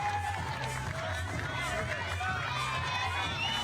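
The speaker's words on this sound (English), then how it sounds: "the crowd are loving it. Big round of applause there for the Austrian." Crowd at the IFSC Climbing World Cup lead semi-finals in Imst cheering and applauding, a steady wash of claps and cheers at moderate distance, with a commentator talking over it.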